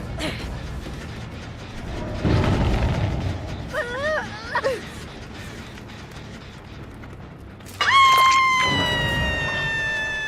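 Blast mine in Dead by Daylight going off with a loud, close burst and rumbling boom, preceded by rumbling game effects and a warbling tone, with a bright ringing flash of sound trailing afterward.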